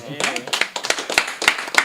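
An audience at the Bourg la Run 2016 speedrun event claps for a Tetris: The Grandmaster run in uneven, scattered bursts of hand claps, while voices talk over it throughout.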